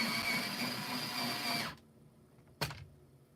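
Pencil sharpened in an electric sharpener during an adult coloring session: a steady whirring grind for about a second and a half, then it stops, followed by a single short knock.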